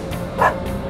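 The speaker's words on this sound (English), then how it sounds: "It's a dog!" A single short dog bark or yip rings out once in the middle, close and fairly sharp, over a low steady background hum at a children's science museum.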